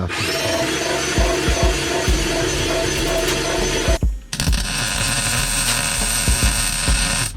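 A fire extinguisher mount is fastened inside a car trunk on an AWD Neon build, with close, loud power-tool whirring, ratcheting and mechanical knocks, a brief stop, then steadier driving noise.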